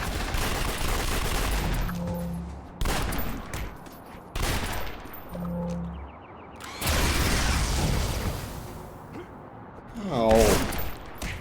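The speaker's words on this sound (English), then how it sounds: "You shot at me, I have to shoot back." Gunfire in the superhero MMO City of Heroes comes in several loud, dense bursts separated by short pauses, with in-game sound effects and a voice mixed underneath.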